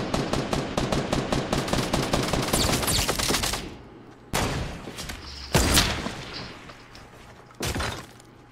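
Rapid bursts of automatic gunfire in a Fortnite match on Xbox, loud and dense for the first few seconds, then broken into separate volleys and single shots after brief silent gaps.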